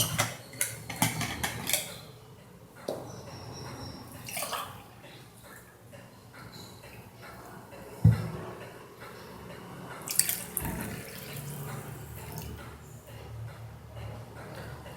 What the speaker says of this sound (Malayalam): ഇനി നമുക്ക് 1 ഗ്ലാസ് കൂടി വെള്ളം നമുക്കിതിൽ ചേർക്കാം.